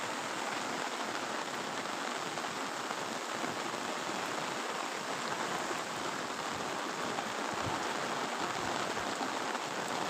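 Steady rain falls over village fields, a dense even hiss of drops with no pauses and no voices.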